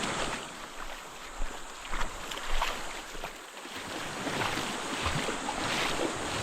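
Rough sea surf washes onto the shore at high tide while someone fishes from the beach, a continuous broadband roar with gentle swells and gusts of wind and no voices.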